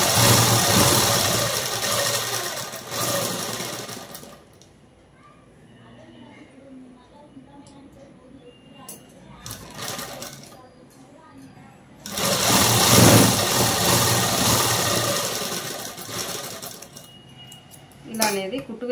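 A sewing machine stitches the shoulder seam of a long lehenga-style frock in two loud, steady runs of rapid whirring, separated by a quieter stretch where someone talks softly.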